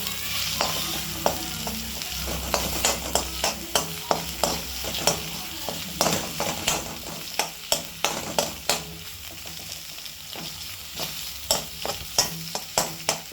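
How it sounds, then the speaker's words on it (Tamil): Egg being stirred on a hot tawa pan sizzles steadily while a utensil scrapes and taps the metal in repeated quick strokes that grow more regular toward the end. "நெக்ஸ்ட் நம்ம கிண்டிக்கணும் நல்லா."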